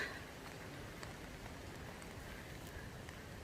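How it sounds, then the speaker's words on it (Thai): Rain falls steadily on a hillside where wild greens are picked, a constant soft hiss with scattered drop patters throughout, fairly quiet, with no talking. "ฝนตก"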